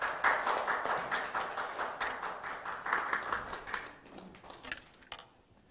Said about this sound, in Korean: 이수진 의원님을 큰 박수로 맞이하도록 하겠습니다